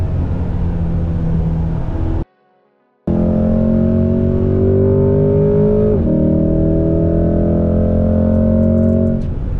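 A car lapping a race track roars steadily, its engine tone climbing through rising harmonics as it accelerates and shifts, loud and close with a brief dropout partway through.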